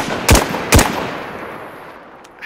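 Two heavy, booming shots from a 9x39 rifle in DayZ, spaced about half a second apart, each a loud broadband crack with a short tail, followed by a fading reverberant ambience.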